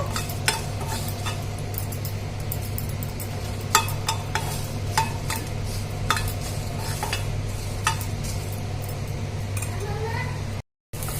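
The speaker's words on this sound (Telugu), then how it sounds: "స్టవ్ పైన మళ్ళీ ఇంకొక ప్యాన్ పెట్టేసుకొని ఎండుమిరపకాయలు అయితే వేసిన ఇవైతే కొంచెం వేయించుకోవాలన్నమాట" Dried red chillies fry in a pan on the stove for an ivy gourd and onion curry, with a constant hissing sizzle, frequent clinks of a stirring utensil against the metal, and a brief cut near the end.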